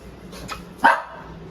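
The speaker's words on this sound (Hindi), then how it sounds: "देखो कैसे कैसे कुत्ते की तरह भौंक रहा है।" A dog gives a single loud, sharp bark up close, preceded by a couple of softer yips.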